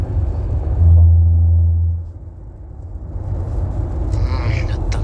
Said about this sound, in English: The thunder's so loud.